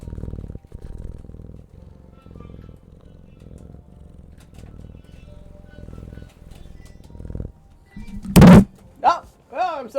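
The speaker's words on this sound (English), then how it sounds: "He knocked over the mic." A house cat purring close by, then a sudden loud thump near the end as the cat knocks a microphone over, followed by a person talking.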